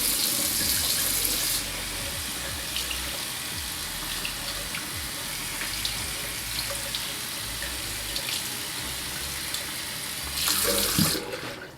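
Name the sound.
tap water running over waterproof glove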